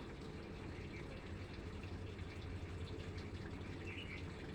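Water poured steadily into a cooking pan with spice paste for a Bengali prawn and vegetable dish, a soft continuous rushing pour at low volume with no talking.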